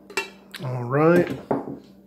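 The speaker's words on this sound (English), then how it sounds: "give that a quick stir." A utensil stirs a Russian FSB mountain ration meal in a metal pot, making a short burst of close scraping and clinking. One longer scrape swells in the middle, set between sharper taps.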